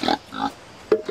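Large pig, kept for four years in a makeshift pen of reused tarpaulin, grunts in three short, close bursts separated by brief pauses, with no talk over it.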